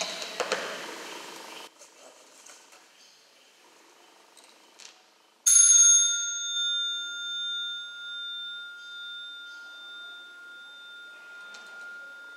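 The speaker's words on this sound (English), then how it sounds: "I'll ring the bell once and then do some guided meditation." A meditation bell at a Buddhist monastery retreat is struck once, ringing out clear and loud, then its pure tone lingers and slowly fades over several seconds after some quiet room sounds.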